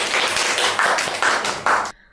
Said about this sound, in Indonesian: tepuk tangan sekali lagi, Bes